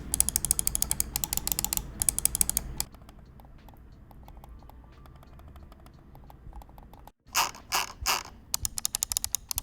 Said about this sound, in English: how the mouse click sounds on the MX Master 3 compared to the MX Master 3S